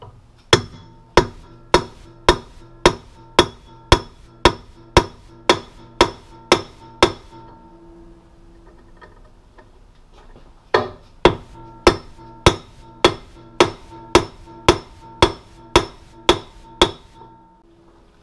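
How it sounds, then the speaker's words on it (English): A 2-pound dead blow hammer knocks wheel bearings out of a Honda Goldwing wheel, loud evenly spaced metallic strikes in two long runs of about a dozen blows each, separated by a brief pause. "This is a 2-pound dead blow hammer, and I'm just going to knock the bearings out from this side."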